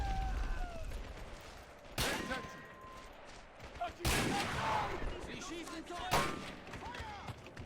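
Bursts of gunfire from an SMG gunner firing from a window in the WWII strategy game Men of War: Assault, set during the 1942 Dieppe raid in France; three loud sharp volleys land about two seconds apart over a busy battle din with voices.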